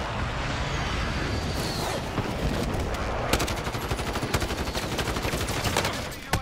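Rapid automatic gunfire in the video game Warzone on PS4, with dense bursts and sustained rattling volleys that are loud and close and continue steadily throughout.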